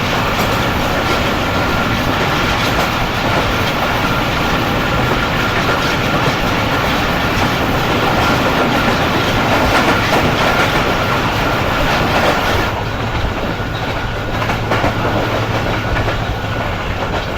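A freight train rumbles past at speed through a railway station without stopping, with continuous clickety-clack of wheels on rails, loud and close throughout, with no voices.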